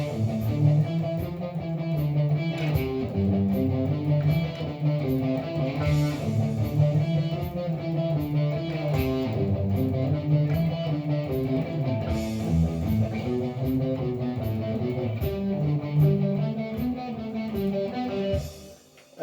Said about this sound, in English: It features basically two guitar parts playing in unison, octaves apart.